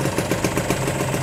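A Kawasaki Ninja R 150 motorcycle engine idles nearby at steady, moderate loudness, its fast even pulsing continuous and alone with no voices.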